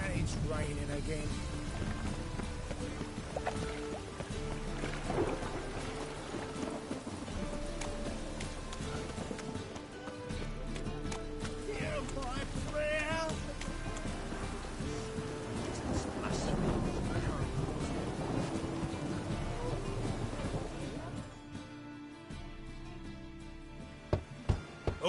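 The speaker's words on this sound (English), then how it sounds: "And it's raining again." Steady rain with occasional low thunder rumbling through The Witcher 3 game world, a continuous wash of downpour under game dialogue and ambient sound.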